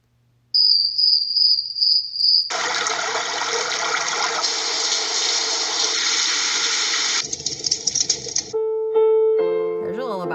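A small, handheld sound machine speaker plays chirping crickets from its nature sounds, then switches to a dense, hissing nature track and finally a simple lullaby tune, all close and clear.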